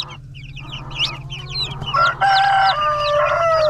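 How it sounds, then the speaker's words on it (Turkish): Orpington chickens, a meat breed, kept in a village coop cluck and squawk close by, with rising calls and bursts of clucking over a steady low hum and no people talking. "Bunlar Orpington cinsi. Etlik tavuk aslında."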